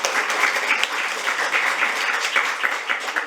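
At a legislative forum, audience members applaud an arriving lawmaker with steady, moderately loud clapping from a seated crowd that carries on without a break for a few seconds.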